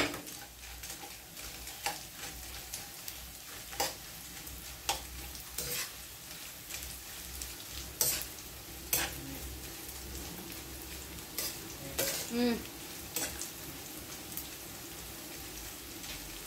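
Anchovies fry in hot oil in a pan, a steady soft sizzle with intermittent sharper pops and crackles and occasional stirring clatter, close up and with no talking.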